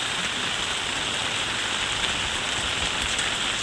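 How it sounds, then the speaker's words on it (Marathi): Heavy rain pours down steadily, a dense continuous hiss of water drumming on surfaces close by, with no voices. "सर्व पाणी पाणी होत आहे बघा मुसळधार पाऊस"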